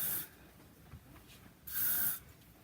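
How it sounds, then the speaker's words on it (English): Hairspray is sprayed onto the roots of the hair in two short, soft hissing bursts with a quiet pause between them. "I'm going to use hairspray right here."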